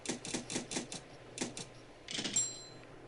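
A typewriter clacks in the video game Ether One, a quick run of close mechanical keystrokes, a short pause, more taps, then a small carriage-like rattle, quiet and with no talking.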